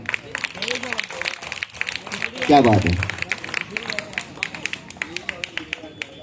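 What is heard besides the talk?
crowd applause at a Shivaji Jayanti gathering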